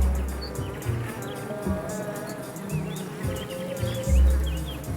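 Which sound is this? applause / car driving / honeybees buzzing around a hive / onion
honeybees buzzing around a hive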